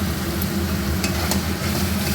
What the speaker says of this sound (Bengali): মশলাটা কষিয়ে আসছে।